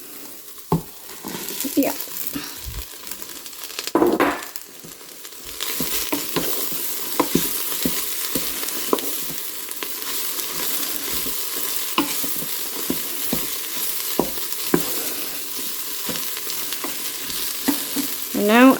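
Shredded cabbage sizzles in a hot pan for a long stretch, a dense steady frying hiss punctuated by repeated scraping clicks of a stirring utensil, with a brief word spoken early on.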